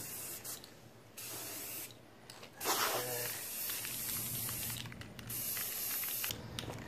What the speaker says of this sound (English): Spray the second coat.